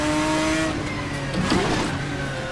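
A Ferrari in a sim racing game, driven with a sequential shifter, revs steadily and loudly, its engine note sliding up and down through the gears with a faint tire squeal near the end.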